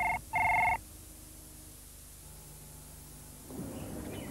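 A telephone in a 1984 British TV advert rings in two short electronic bursts, clear and close, followed by a quiet hiss and low background hum.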